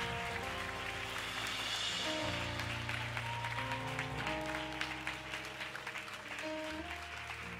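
Rhythmic hand clapping from a church congregation during a worship service, steady and sustained under music, with occasional voices over it.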